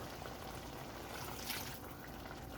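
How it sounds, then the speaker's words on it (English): More water is poured into a pot of vegan vegetable curry, making a soft, steady, faint rush of liquid with no talking. "Okay, so at this point I'm going to add in more water."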